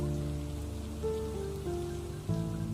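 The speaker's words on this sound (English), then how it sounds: "The rain intensified as I kissed him hard." Steady rain falling on a surface, a constant hiss under sustained soft musical tones that shift pitch, with no talking.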